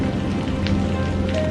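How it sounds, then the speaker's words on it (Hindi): Heavy rain pours in a cartoon storm at night, a steady dense hiss of drops beating on surfaces, loud and continuous throughout with no voices. "उसी रात भयंकर तूफान और बारिश होने लगी"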